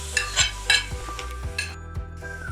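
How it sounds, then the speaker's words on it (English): Carrots fry in a pan for a vegetable puff pastry filling, giving a soft sizzle under repeated scraping and clattering strokes of a utensil against the pan, close and moderately loud. "So first we fry the carrot for a while."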